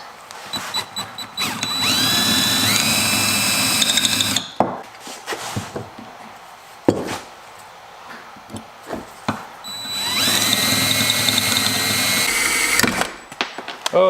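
A power drill with a step drill bit cuts through metal for a custom exhaust on a turbo LS Mustang, two long whining runs that rise in pitch, separated by clanks and handling noises.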